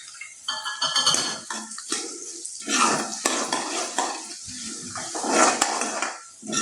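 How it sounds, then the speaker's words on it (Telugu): Cashews lightly frying in a pan while making rava idli, with clattering utensil and pan scrapes, stirring and a soft sizzle running throughout. "జీడిపప్పు, కాజుని కూడా ఇట్లా కొంచెం లైట్గా ఫ్రై అవ్వాలి కాబట్టి వేసేసుకుందాం"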